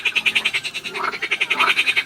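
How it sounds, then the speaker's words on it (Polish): Frogs croak in a fast, steady pulsing chorus near a Polish fishing spot, close and fairly loud, with a few lower overlapping calls and no talking. "żaby nas skurwiają od soboty. Nie dają spać"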